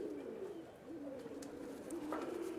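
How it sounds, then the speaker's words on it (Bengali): Pakistani and Rajshahi Giribaz pigeons coo softly in a loft, a series of low, rolling coos repeating close by under faint background noise. "অনেক সুন্দর কবুতর অনেক ভালো কবুতর"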